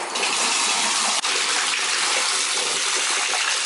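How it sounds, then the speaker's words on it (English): Water gushes steadily from a tap into a bathtub being filled for a child's bath, a loud, continuous broadband rush close by with no talking. "I'm gonna go ahead and start taking Ezra and the kids a bath."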